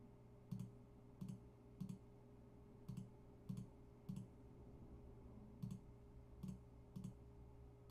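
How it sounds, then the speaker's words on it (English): Sharp, quiet mouse clicks arrive one at a time at an irregular, unhurried pace over a low steady hum. "Pretty sure you guys enjoying listening to my mouse click."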